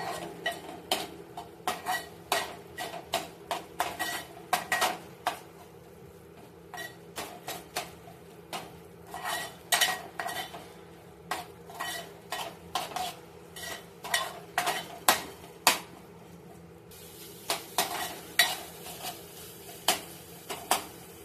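Malvani masala being mixed in a pan with a spoon, a long run of quiet, irregular scrapes and clinks against the metal over a faint low sizzle, with no voices.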